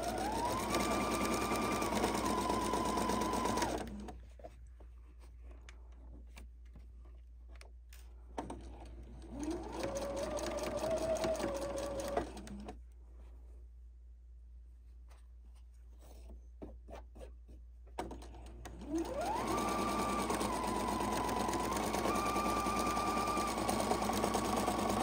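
Sewing machine stitching a quilt block with a 1/4-inch seam, three bursts of steady rapid whirring that rise and settle in pitch, separated by quiet pauses, close and alone.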